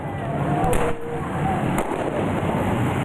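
Police fire tear gas shells and rubber bullets at protesters, two sharp, distant bangs cutting through a loud, continuous crowd and street roar.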